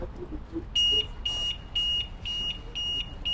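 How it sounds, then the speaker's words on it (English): A 2025 BMW S 1000 RR motorcycle's anti-theft alarm chirps six times in an even rhythm, each a short, bright electronic tweet about half a second apart, fairly close. "you'll hear the alarm come on. It's going to be like a tweet tweet sound."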